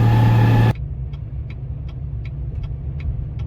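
A Versatile 936 tractor drives along a highway off ramp, its engine a steady low droning rumble with faint regular ticking, after a brief loud opening burst that cuts off abruptly.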